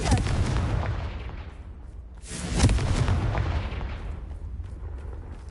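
Confringo fire-blast spell cast in Hogwarts Legacy, two heavy booming explosions with rumbling tails, loud and close, the second blast following about two seconds after the first.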